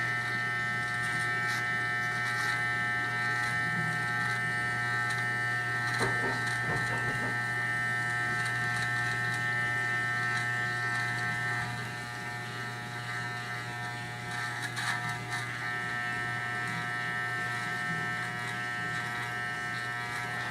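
A self-cut system hair clipper buzzes steadily while cutting a man's hair, a close, constant electric drone that barely changes over twenty seconds, with no talking.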